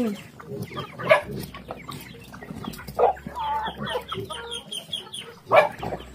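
Several hens cluck close by in irregular bursts, with a few louder squawks rising over a busy farmyard background, laying hens inside a coop.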